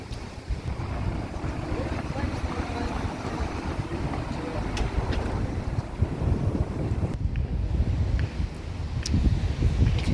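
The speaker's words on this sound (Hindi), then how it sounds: "इतनी तेज़ हवा चल रही है" Strong wind gusting outdoors as light rain starts, a loud, continuous rushing roar buffeting the microphone with rising and falling surges throughout.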